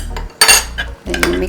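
Utensils clatter and scrape against a bowl while avocado fruit salad seasoned with salt and black pepper is mixed, giving a few loud, close bursts of clinking with short pauses between them.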